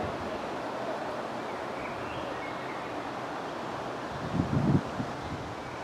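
Steady wind gusting outdoors in a Finnish town makes a continuous broadband rush against the microphone, with a brief low buffeting thump near the end.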